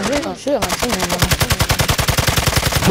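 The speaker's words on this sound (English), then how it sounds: "they're shooting" Rapid automatic gunfire in Call of Duty: Modern Warfare II, a loud close burst of evenly spaced shots running steadily after a short voice at the start.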